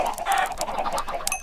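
Chickens in the video game Full Crank cluck in a rapid, repeated series, fairly loud and close, with no one talking over them.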